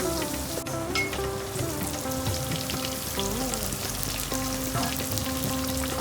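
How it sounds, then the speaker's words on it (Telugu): Slices of bitter gourd (kakarakaya) frying in hot oil give a steady, dense sizzle with crackling pops that runs unbroken throughout, close and fairly loud, with no voices. "ఇవి అయితే వేగిపోయినాయండి, తీసేసుకుందాం. ఇలా వేగాలి."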